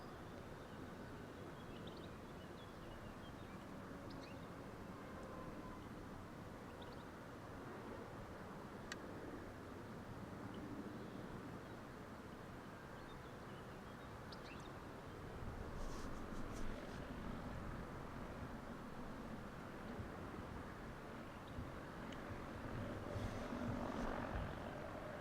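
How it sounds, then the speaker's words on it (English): A single-engine sport plane at Lelystad Airport drones steadily at a distance, its engine rising in loudness partway through as it powers up, with no talk over it. "Let's hear those engines roar. Well, engine. It's just one."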